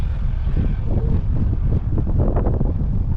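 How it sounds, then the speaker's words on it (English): Strong wind buffets the microphone in a continuous rough roar near a car in Lake Charles, with low rumbling gusts throughout. "So you're gonna hear the wind probably while I'm driving by here."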